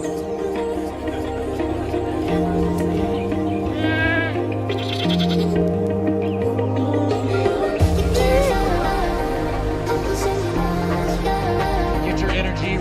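Goats bleating at goat races in Tobago, several loud overlapping calls close by, with a lively crowd and outdoor commotion going on throughout.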